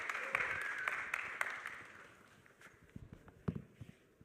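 Applause from a conference audience welcoming a guest onto stage at a fireside chat, moderately loud at first and tapering off over a few seconds, with a few scattered claps and footsteps toward the end.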